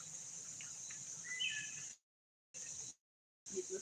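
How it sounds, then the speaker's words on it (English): Evening insect chorus at dusk on a farm, with cicadas and tree frogs giving a dense, steady high buzzing drone and a few faint chirps, cut by two brief gaps of silence. "You listen to the cicadas and tree frogs starting to come out"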